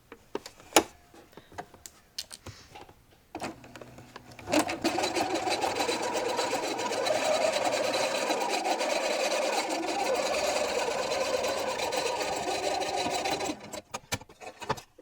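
A sewing machine runs steadily for about nine seconds, stitching the shoulder seams of a linen tank top, with close handling clicks and fabric rustle before and after the run, no voices.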